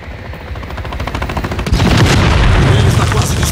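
A drone-dropped bomb in Call of Duty Modern Warfare III goes off after a stretch of rapid gunfire, the blast swelling into a loud, dense rumble that lingers to the end.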